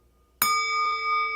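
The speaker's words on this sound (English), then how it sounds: "I'll sound the bell 3 times." A single bell is struck sharply, ringing with a bright, sustained metallic tone that hangs on without fading.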